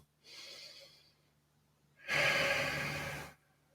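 Two deep breaths taken while holding a stretch in a pre- or post-swim routine, a softer airy inhale followed by a longer, stronger exhale, close and alone.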